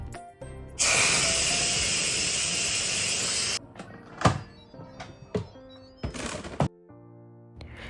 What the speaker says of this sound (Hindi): पहले मैंने इंस्टेंट पॉट का प्रेशर रिलीज़ किया